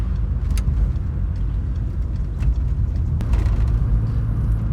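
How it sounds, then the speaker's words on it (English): Volkswagen GTI fitted with a RamAir intake idling as it warms up, a steady low engine rumble close by, fairly loud and even throughout with no voices. "I'm just warming the car up, but it seems to drive much better."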